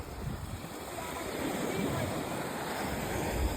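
Ocean surf rolling onto a dog beach, a steady broadband wash of breaking waves with some wind rumble on the microphone, continuous and fairly close throughout.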